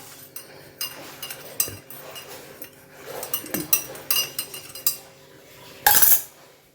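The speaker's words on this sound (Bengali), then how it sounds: "চিনিটা গুলিয়ে দিচ্ছি" A metal spoon clinks and scrapes inside a cup while sugar is stirred into hot tea, several sharp taps spaced irregularly, with a louder clatter near the end.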